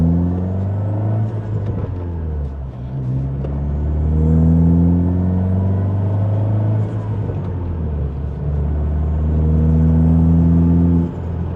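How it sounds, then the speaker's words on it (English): Engine and turbo noise from a Ford Focus ST fitted with a big Pulsar 4849G turbocharger, a steady loud rumble with rising and falling revs and turbo whine, close by, with no voices. "the amount of turbo noise that comes out of this thing is insane. And the flutter is unreal."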